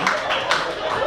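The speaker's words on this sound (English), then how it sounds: "Clap for my people." Brief burst of audience clapping at a church gathering, close and fairly loud, with voices talking over the applause.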